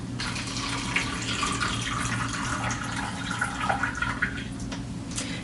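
Water rushes steadily out of a kitchen sink, a continuous close gurgling flow that holds at an even level for several seconds with no voices.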